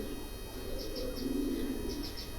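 Pigeons bred from a single pair cooing softly in low, rolling murmurs, with a few faint chirps higher up over a steady background hum.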